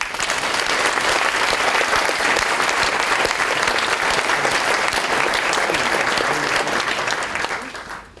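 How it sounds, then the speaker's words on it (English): A dense round of applause from an audience at a live talk, steady and loud throughout before tapering off at the end, with no voices over it. "we should give them a round of applause for the effort that they've made on your behalf"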